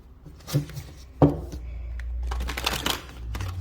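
Tarot cards are shuffled and riffled close by, with sharp taps and a fluttering rush of cards in quick bursts, no talking.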